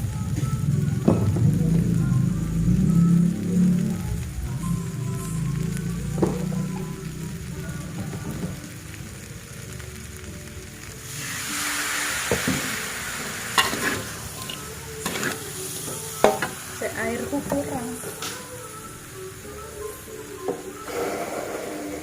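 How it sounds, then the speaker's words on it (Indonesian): A spoon stirs seasoning with salt and MSG in a frying pan with a little water, giving a loud bubbling sizzle and repeated scraping, then quieter hissing with scattered knocks and clinks later on. "Kita aduk lah, iki ben larut bumbune, garam, micin ben larut."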